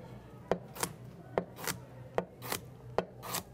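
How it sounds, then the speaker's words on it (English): A knife chops a peeled carrot into cubes on a cutting board, sharp close thuds arriving in evenly spaced pairs, about four pairs in a steady rhythm, with no talking. "we'll peel a carrot, and we're going to cut it into squares"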